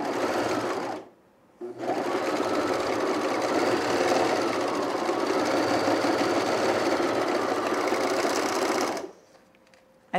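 An overlock sewing machine stitches fabric in a fast, loud, steady whir, pausing briefly once before running again for several seconds and then stopping.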